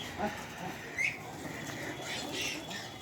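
Pigeons in a village courtyard give a few short squawking calls, faint and somewhat distant, with a male pigeon calling over steady outdoor background noise.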